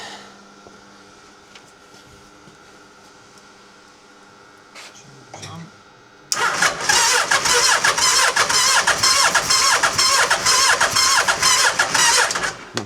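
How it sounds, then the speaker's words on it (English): Hayabusa-powered Nissan K11 Micra engine cranking and firing up: several quiet seconds with faint clicks and brief cranking, then the motorcycle engine catches abruptly and runs loud and steady with a fast, throbbing idle, close by. "Don't do continuous cranking."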